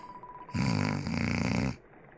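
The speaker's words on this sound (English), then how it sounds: "you hear snores rumbling from his skull" A single loud, rasping snore, one long rumbling inhale lasting about a second, set against quiet background.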